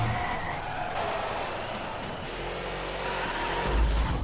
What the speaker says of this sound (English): So nice set of burnouts there.